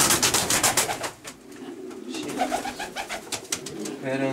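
A racing pigeon coos repeatedly at close range in rhythmic bursts at a pigeon club presentation, with soft rustling and a few faint background voices.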